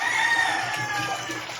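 A gamecock rooster crows once in a long, drawn-out call, fairly close, with faint background from a small backyard breeding farm.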